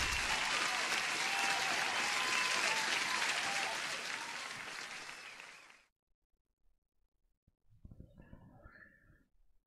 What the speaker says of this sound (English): Applause for the lady.